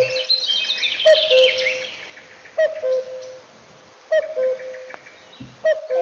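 A common cuckoo gives its two-note call several times at a steady pace, fairly near, over a hiss of outdoor background noise and other birdsong.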